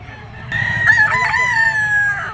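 A bullstag gamecock crows once, loud and close, in a long drawn-out call over faint background noise.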